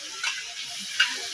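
Mustard paste ground with green chilies sautés in a pan for mustard hilsa curry, giving a soft, close sizzling hiss with a faint scrape of stirring and one small tick.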